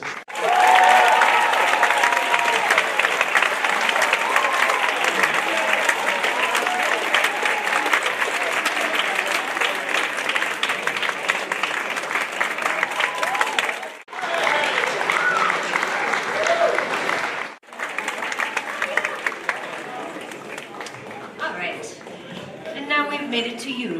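Sustained applause from a graduation crowd for an award recipient, loud and continuous with some cheering, briefly dipping twice before resuming.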